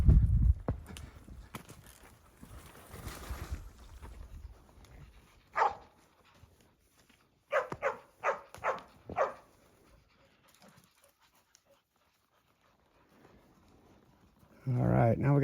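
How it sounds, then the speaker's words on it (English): A few short dog barks ring out in a quick cluster, fairly distant, while the dogs hold a cow in rough country, with quiet outdoor background and a voice between them. "I could hear them barking and they've got her held"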